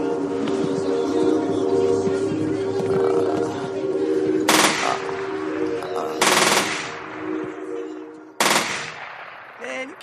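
Gunfire in a film scene, loud sharp shots in several bursts ringing out over a sustained tonal rumble of music and noise, with no speech in between.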